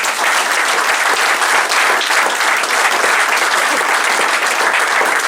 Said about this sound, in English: A favourite, I'm sure he'll get a bit of a cheer